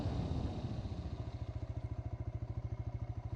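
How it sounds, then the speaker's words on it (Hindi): A TVS Raider 125 ABS motorcycle slows from around 60 under braking, its engine thrumming loudly and settling into a steady, pulsing low idle beat, up close with no talking. "और मोटरसाइकिल एकदम फुल कॉन्फिडेंस से रुक गई है"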